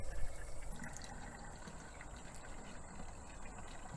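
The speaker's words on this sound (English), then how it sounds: "Just by running water through it, wringing it out." Water runs steadily through a soaked small-engine air filter during cleaning, a continuous close rushing and gushing flow with no talk.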